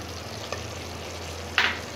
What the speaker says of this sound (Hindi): इसको अच्छी तरह से अब हम मिक्स करेंगे और भून भी लेंगे साथ में